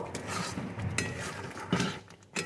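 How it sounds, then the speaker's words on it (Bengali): Semolina halua with ghee stirred in a pan, soft scraping strokes and occasional light metallic clinks of the spoon, close and fairly quiet. "নাড়িয়ে নেব"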